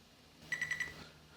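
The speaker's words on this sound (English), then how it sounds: "We heard it double beep over here on the meter." Fluke 88V digital multimeter capturing a min/max reading: a quick run of four short, high electronic beeps in even succession, faint and clean against a quiet room with no talking.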